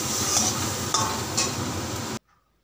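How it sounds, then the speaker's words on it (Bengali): Spices sautéed and stirred in a pan with a little water, a loud close sizzle with steady stirring and scraping and a few metallic clinks, cutting off abruptly near the end. "তো মশলাটা এখন কষাইতে থাকুন।"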